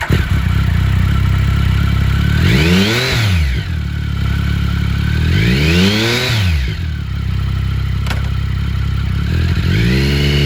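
A 2010 Triumph Tiger 1050 triple touring motorcycle engine revs hard several times from a loud, close idle, each rev rising and falling back in repeated sweeps, with no talking.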